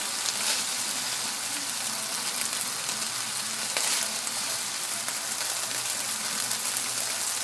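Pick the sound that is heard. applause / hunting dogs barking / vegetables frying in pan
vegetables frying in pan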